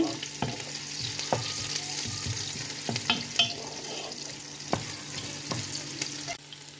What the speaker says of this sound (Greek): Τσιγαρίζουμε το κρεμμυδάκι με το σκορδάκι μέσα στο ελαιόλαδο, δεν θέλουμε να το κάψουμε απλά να μαραθεί.